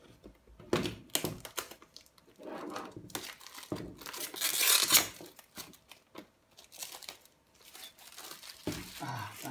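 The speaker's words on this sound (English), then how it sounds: "Love to unwrap things." Plastic shrink wrap is crinkled and torn off a limited edition game box in irregular, close bursts of crackling and rustling, with a louder tearing stretch midway.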